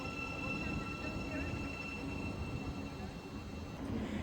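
Train running through platform 4 at Bedford station on the Midland Main Line, a steady loud rumble of wheels and carriages with faint high metallic tones over it, continuous for the whole stretch.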